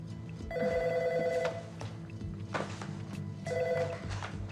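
An office telephone rings in a crime drama scene, two clear electronic ring bursts separated by a pause, close and fairly loud over low background room noise, with no voices.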